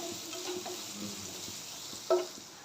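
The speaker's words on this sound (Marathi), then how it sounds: "कांदा छान गोल्डन ब्राऊन कलर येईपर्यंत तेलात परतून घ्यायचं आहे" Chopped onion frying in hot oil in a pan for a spicy egg tawa masala, a steady soft sizzle with a single brief clink of a utensil near the end.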